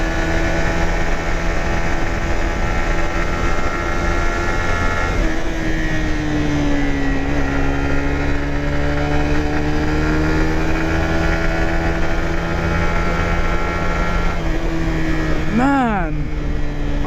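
A Suzuki GSX-R150 motorcycle is ridden with a steady, buzzing engine drone throughout. The pitch shifts between gears, and a short rising and falling whine sounds near the end.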